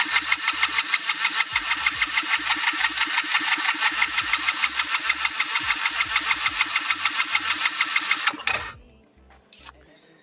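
A 110cc pit bike engine cranks rapidly and rhythmically without catching for about eight seconds, then the starter stops abruptly, leaving near silence with a few faint clicks.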